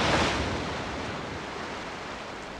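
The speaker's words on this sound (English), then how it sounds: "it's easy to forget that the roaring Atlantic surf is only a kilometre away" Roaring Atlantic Ocean surf on a beach near a space centre, a steady broadband wash of breaking waves that swells slightly at the start and then holds, loud and continuous with no voices.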